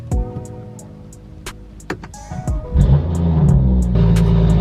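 A BMW F30 being started: a few sharp clicks and taps, then the engine cranks and catches, settling into a loud, steady idle rumble close by.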